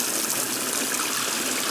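Water pours steadily down a rain-curtain water feature fed by a newly installed water supply, making a continuous close rushing splash with no voices.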